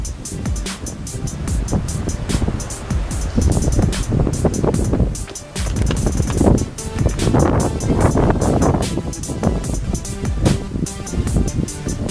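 Strong gusting wind roars across an exposed mountain climb near the summit, buffeting loudly and surging and easing in waves throughout.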